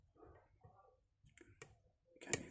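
Faint, sharp little clicks from picking an ASSA Desmo lock, a few soft mechanical ticks close up with a crisper click near the end.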